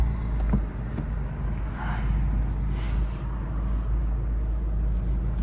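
A tuned VW Golf GTI Mk7 Performance of over 300 hp idles in neutral at a traffic light, its steady low engine drone continuous and even from inside the cabin, with no talk.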